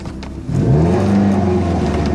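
An Opel Astra Turbo car engine, turbocharged by its owner, revs up sharply about half a second in, then holds a loud, steady droning pull with a rising tone as it accelerates.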